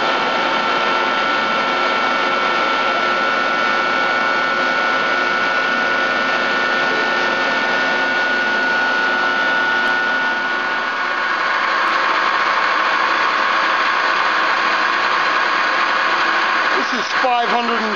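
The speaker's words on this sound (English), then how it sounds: "This is the spindle of the machine at 2200 RPM." The spindle of a 5-inch Giddings & Lewis CNC horizontal boring mill runs at 2200 RPM with a steady, smooth mechanical whine and hum. A faint tone shift appears midway, and a short clatter sounds at the very end.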